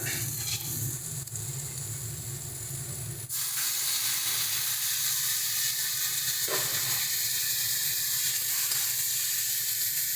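A splash of water hits a pan of frying bata fish curry with drumstick pods, setting off a loud, close, steady sizzle and hiss that bursts in suddenly after a quieter stretch and keeps going to the end, with no talking.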